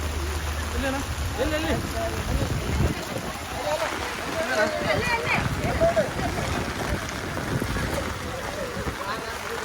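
Steady rain falls outdoors on the ground at a house with no roof, a continuous wash of drops beneath frequent nearby speech.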